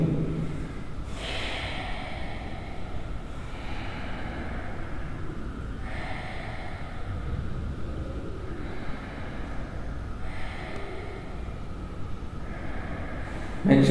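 Heavy, audible breaths after yoga practice, drawn in and pushed out in slow, regular cycles every couple of seconds, close and steady with no talking.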